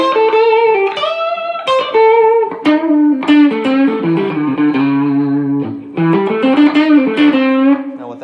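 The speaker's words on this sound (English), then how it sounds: "And then here's a little bit of overdrive." A Telecaster electric guitar plays through an amp with a light overdrive, giving a run of gritty, sustained notes and chords that continue steadily and loudly with no talking.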